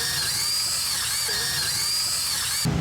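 A power drill runs steadily, removing screws from an RV reclining loveseat, a continuous close whine that stops abruptly near the end.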